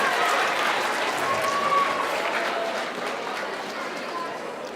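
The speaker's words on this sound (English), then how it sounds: "I get an applause for grabbing my water?" A conference audience applauding a speaker, a broad, even wash of many hands clapping at a distance, moderately loud and sustained, easing slightly toward the end.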